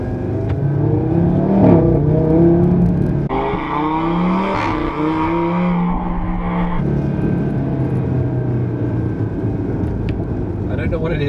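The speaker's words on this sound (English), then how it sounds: "it does seem to provide the loudest noise when shifting between first and second." A 2018 Audi RS3 with a DSG gearbox revs hard through first gear, its exhaust note jumping as it shifts into second, loud and close throughout, with a steady engine drone continuing after the change.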